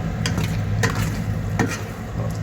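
A spoon stirs dinuguan sa gata, pork blood stew in coconut milk, in a pot over steady sizzling heat, with a few soft scraping strokes against the pot.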